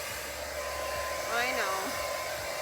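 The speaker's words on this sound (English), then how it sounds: "So we're gonna go ahead and start the blow drying process." A hair dryer runs continuously while blow drying a German Shepherd, a loud, steady whooshing whine with a brief pitch wobble as the airflow shifts partway through.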